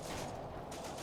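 Continuous rifle and machine-gun fire aimed at a rifle squad in the World War II strategy game Combat Mission: Afrika Korps, a dense, steady crackle of shots filling the whole second with no voices.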